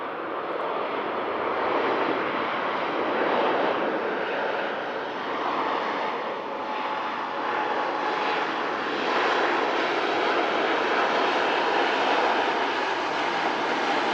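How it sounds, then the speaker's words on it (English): An Air Transat Airbus A321 long range landing in from Toronto, its reverse thrust producing a steady, loud broadband jet roar that holds evenly throughout with no pauses. "Reverse is retracted there on the Air Transat A321 long range, coming in from Toronto"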